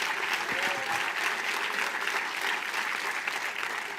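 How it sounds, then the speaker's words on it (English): Audience at a church tribute to Aretha Franklin giving sustained applause, a steady wash of many hands clapping close and loud throughout, with faint crowd murmur underneath. "give, as I would say in my home church, the Lord a mighty hand clap tonight for giving us Aretha."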